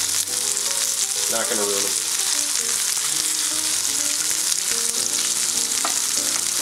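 Fish fillets pan frying with carrots and spinach, a constant loud sizzle with occasional stirring and scraping, while someone speaks briefly over it.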